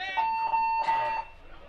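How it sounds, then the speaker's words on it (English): End-of-game buzzer at a professional paintball tournament, a loud steady electronic tone sounding for about a second under crowd noise and talk. "Just press the buzzer."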